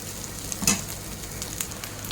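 Dried prawns coated in masala fry in a pan with a steady, close sizzle and a brief clack of stirring partway through.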